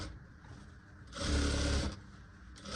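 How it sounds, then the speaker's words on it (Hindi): A sewing machine stitches a princess-cut blouse, running in one steady, fairly loud burst of about a second between quieter moments. "देखिए इसमें हम दाब सिलाई लगा देंगे"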